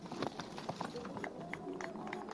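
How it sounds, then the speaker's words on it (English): Horse's hooves clatter in a quick, uneven rhythm as a carriage driving horse runs a cones course toward the finishing flags, with crowd and voice sounds mixed in. "the horse's hooves patter through the, or clatter through the finishing flags"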